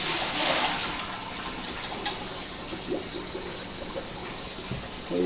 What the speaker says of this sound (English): I'm running the water through the colander in the opposite direction